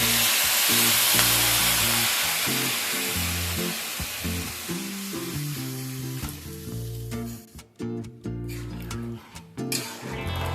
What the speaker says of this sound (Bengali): একসাথে সমস্ত উপকরণ সুন্দরভাবে ভেজে নেওয়ার পর আমি এর মধ্যে জল অ্যাড করে দিচ্ছি